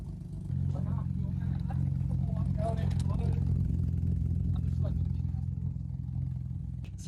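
A Nissan G35 drift car fitted with a cheap $200 exhaust idles with a deep, steady rumble and gives a small rev, loud and close throughout, while people talk over it.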